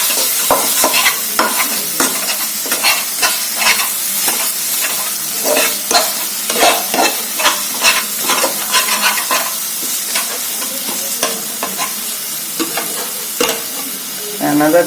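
Chole masala stirred in a hot pan, a loud continuous sizzle punctuated by regular scraping spoon strokes about every half second, close and steady, with no talking.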